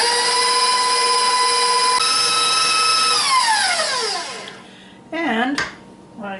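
An electric mixer whipping cooked icing for a red velvet cake gives a steady, loud motor whine that rises and then slows and winds down. A short burst of motor noise follows, and no one speaks.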